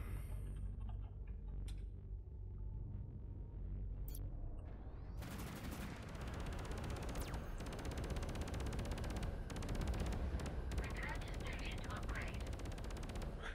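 Rapid, sustained automatic fire from a rotary cannon in the space combat game Fractured Space, building from quieter sounds into a dense, loud barrage with booming impacts that continues to the end, while a voice talks underneath.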